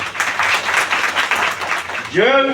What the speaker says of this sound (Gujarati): એકવાર તાળીથી વધાવો